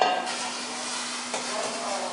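Apples dropped into caramelized sugar in a hot pan give a loud, steady sizzle and hiss that holds evenly, with a small stir or bump partway through and no voices over it.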